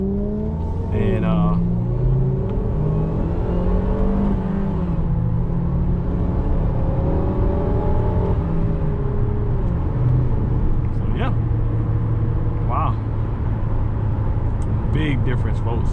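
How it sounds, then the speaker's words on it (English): A turbocharged Acura RDX engine revs up and down repeatedly, its pitch climbing and falling in smooth sweeps at close range, while someone talks over it throughout. "It was Toyota Acura's first turbo engine"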